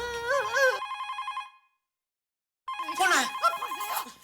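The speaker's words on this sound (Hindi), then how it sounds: "फोन है, टप्पू का है, देख तो।" A telephone rings in a household scene from a Hindi TV sitcom, with two bursts of a bright, repeating electronic ring separated by a short silence and voices mixed in around it.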